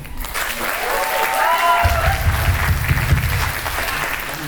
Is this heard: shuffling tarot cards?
no